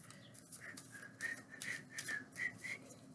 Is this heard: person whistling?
yes